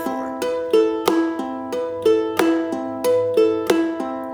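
Ukulele strummed in a steady rhythm with a percussive tap on the top of the body at regular intervals, bright chords ringing with sharp snare-like knocks, close and clear, with no voices.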